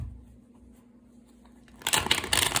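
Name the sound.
tarot cards being shuffled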